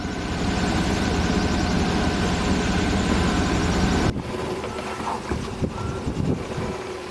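A sailboat motors under engine power, its engine droning loud and steady for about four seconds before cutting off abruptly, leaving quieter wind and water noise.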